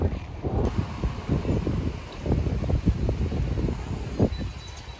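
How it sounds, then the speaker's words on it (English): Strong gusty wind batters the microphone with continuous low rumbling buffets, rising and falling in bursts throughout. "So it's really windy."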